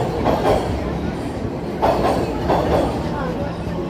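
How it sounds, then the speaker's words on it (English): A subway train rumbles beneath a downtown Toronto street in the evening, a loud low roar with rhythmic surges and faint rail clatter, steady throughout. "You can hear the subway going underneath."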